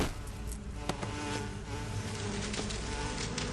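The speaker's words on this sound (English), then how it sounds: "he just really passionately loves his bees. His hornets even." Dense, continuous buzzing of a swarm of bees or hornets in the video game Metal Gear Solid 3, a steady close-up drone filling the whole stretch with no talk.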